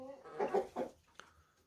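Hens clucking inside a backyard chicken coop in winter, a few close, throaty clucks in quick succession followed by a short sharp peep, with no talk.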